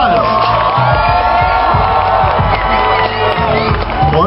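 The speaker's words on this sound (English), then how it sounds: "Christy Jordan, is Miss Power Fest, please let's hear your applause." A crowd at a bikini contest cheers and claps loudly and continuously, with whoops and shouts rising over the applause and a voice faintly audible in the din.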